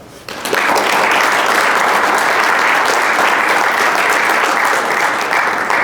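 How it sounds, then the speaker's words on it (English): An audience bursts into loud, sustained applause to welcome a speaker at a Rotary conference workshop, dense clapping starting abruptly and holding steady without talk. "Please, warm welcome of applause for Greg."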